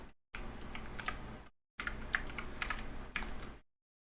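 Rapid keystrokes on a computer keyboard come in two bursts, each about a second long, with brief silent gaps between them. The clicks are faint, close and dense, with no voices.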